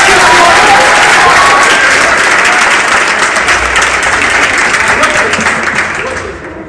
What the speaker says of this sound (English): can I ask everyone just to clap your hands real loud?